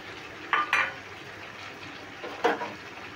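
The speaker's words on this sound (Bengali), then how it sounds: "এবার সর্ষের বাটাটা ঝিঙের সঙ্গে ভালো করে মিশিয়ে নিচ্ছি।" A mustard-cumin-chili paste being stirred into ridge gourd in a pan, two clusters of spoon scrapes and clinks against the pan over a quiet background, with no voices.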